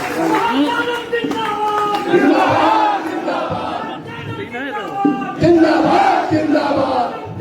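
A crowd at a Rashtriya Janata Dal party office gathering in Khagaria shouts zindabad slogans in loud, rhythmic, repeated call-and-response bursts.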